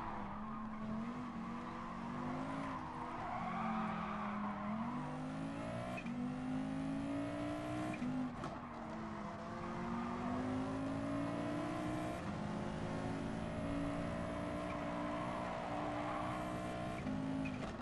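A rally car set up for dirt is driven hard in Gran Turismo Sport during a Gr.B rallycross race, its engine whining and revving continuously while tires skid and slide across loose ground for the whole stretch.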